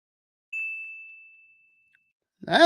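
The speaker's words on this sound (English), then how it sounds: "You got a little ding there, a little bell" A single clean ding bell sound effect rings out with a bright, pure tone that fades over about a second, then a voice starts speaking right at the end.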